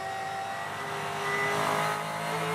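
Supercars race car engine heard from onboard at the 2025 Taupō Super440, a loud steady drone with held tonal harmonics, no talk over it.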